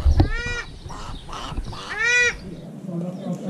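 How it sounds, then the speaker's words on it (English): A duck at a campsite at Ruapuke, New Zealand calls in a few loud, harsh honking quacks, close by, with people talking around the calls. "John the Duck's calling your name"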